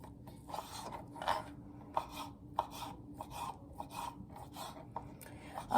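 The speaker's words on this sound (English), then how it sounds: "5 slices, 1, 2, 3, 4 of turkey bacon into small pieces" Turkey bacon slices are chopped into small pieces on a board, giving a run of close, rhythmic knife cuts roughly twice a second with soft scraping between strokes.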